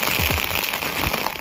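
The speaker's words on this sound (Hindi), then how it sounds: "सच में बहुत खतरनाक बरसात हो रही है।" Heavy rain pours onto a rooftop in a dense, constant hiss of spattering drops, loud and close throughout, with wind as well.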